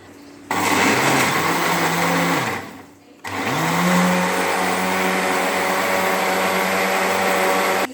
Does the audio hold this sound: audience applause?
no